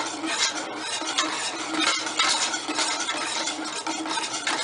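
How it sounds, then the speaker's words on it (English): Steady scraping and swishing of a spoon stirring thick chocolate strawberry sauce in a pot, continuous and close, with a faint sizzle underneath. "So I guess I have to continue to stir it the entire time."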